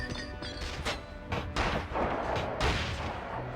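Grenade blasts in the PS2 game Quantum of Solace at an eco hotel, a rapid string of loud booming bursts and gunfire crackling one after another with no gaps.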